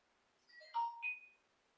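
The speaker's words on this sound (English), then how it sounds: "That was my phone" A mobile phone gives a brief, faint melodic ringtone chirp of a few quick tones, alone in an otherwise quiet room.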